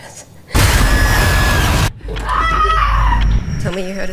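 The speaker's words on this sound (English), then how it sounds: "Tell me you heard a scream." In a horror film trailer, a loud, sustained scream fills the frame and cuts off abruptly, followed by a deep booming impact and tense, tonal score.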